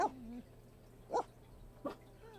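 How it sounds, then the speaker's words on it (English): A dog in The Sims 4 gives three short barks, about a second apart, fairly faint over a steady low hum. "dog's barking in-game and in real life"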